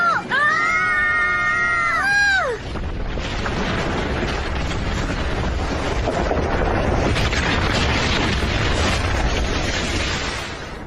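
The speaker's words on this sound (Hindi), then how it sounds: "धमाका कैसे हुआ डोरेमोन?" A rising, warbling synthetic tone gives way to a big cartoon rumbling blast from a Doraemon episode that roars and crackles on for several seconds, loud and chaotic.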